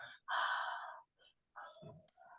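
Breathing exhaled onto cupped hands to warm them during a children's breathing exercise, with two or three soft, breathy puffs, the first long and steady and the later ones shorter, close and quiet.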